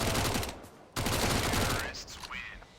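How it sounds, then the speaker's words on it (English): Rapid MAC-10 submachine gun fire in Counter-Strike on the de_dust2 map, dense loud bursts filling the clip with a brief break near one second, and faint ricochet-like tones toward the end. "as they just mow him down with a Mac 10"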